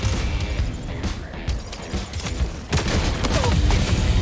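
Gunfire from a Helldivers 2 battle, with players shooting at enemy rockets: a dense, continuous volley of loud shots and impacts, with a heavier burst of fire near the end.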